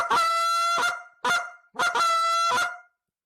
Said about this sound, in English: and a cluck I moan.